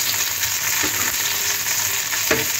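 Onions, chopped tomato and green chilli frying in oil in a pan for okra do piyaja, giving a steady close sizzle with a few scraping stirs and no talking.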